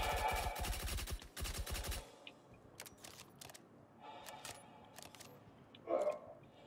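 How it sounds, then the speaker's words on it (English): A video game shootout with dense rapid automatic gunfire for the first two seconds, followed by scattered single and short-burst shots, close and sharp, with a brief thump near the end. "I'm gonna peek and shoot."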